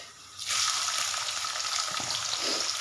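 A sudden sizzle as cumin and onion drop into hot oil, then a steady, close crackling fry that continues evenly.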